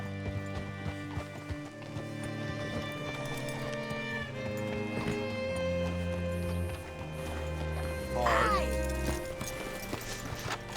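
Horse hooves clip-clop along under a steady music bed in Red Dead Redemption 2, with a brief whinny rising near the end; the whole mix sits fairly quiet.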